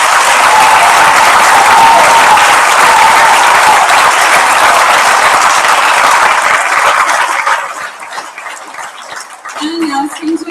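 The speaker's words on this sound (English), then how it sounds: "So please give them a round of applause." Sustained audience applause fills a school prizegiving hall, dense and steady for about eight seconds, then thins to scattered claps as a voice begins speaking.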